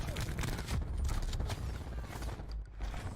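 Gunfire in the Call of Duty Black Ops 4 multiplayer game, including a shotgun: dense, loud overlapping shots and impacts across the clip, with brief sharp bursts standing out against busy battle noise.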